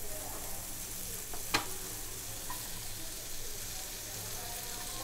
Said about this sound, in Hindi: अपना जो बटर है मेल्ट हो चुका है, अब मैं इसमें प्याज डाल रही हूँ जो मैंने बारीक काट ली थी।